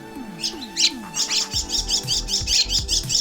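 A young bird chick calling with rapid, repeated high chirps, close and fairly loud, in a steady run of short notes alongside some lower cooing tones.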